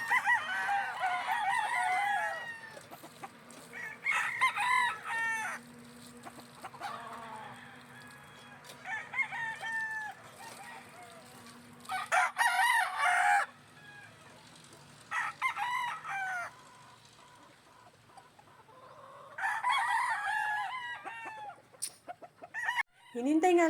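Chickens and roosters at a game farm, with repeated crowing calls and clucking spread across the clip, some close and loud, others farther off, with a steady low background hum.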